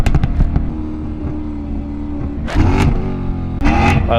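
A loud Jaguar F-Type engine in the Assetto Corsa driving game hums steadily through a tunnel, then two sharp revving surges rise over the drone.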